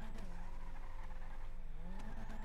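A car drifts in GTA V on a FiveM drift server. Its engine whines and its tires squeal in a continuous, fairly faint skid that sweeps up and down in pitch.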